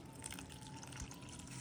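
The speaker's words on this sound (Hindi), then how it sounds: "दूसरी तरफ एक और बर्तन लेना है, उसमें आपको पानी डाल देना है।" Water is poured into a cooking pot, a steady, quiet splashing and gurgle that holds evenly throughout, with no talking, while a cauliflower kheer is prepared in a home kitchen.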